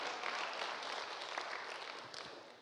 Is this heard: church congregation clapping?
yes